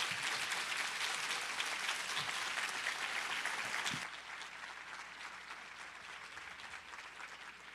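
Sustained applause from a seated audience at a school ceremony honoring top seniors, dense steady clapping that fills the room, then thins and softens slightly midway without stopping.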